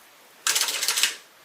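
Sewing machine stitching zipper tape onto a faux croc tote bag, a close burst of rapid, even mechanical clatter lasting under a second before stopping.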